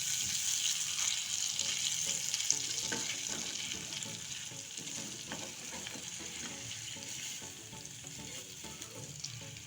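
Paneer cubes fry and sizzle steadily in oil in a kadai, a continuous bright crackle with soft stirring scrapes, close and fairly even throughout with no talking.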